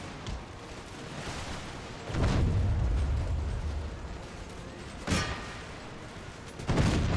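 Artillery fires in an Empire: Total War battle, with three heavy booms at spaced intervals, each followed by a rumbling tail over a low background of distant battle noise.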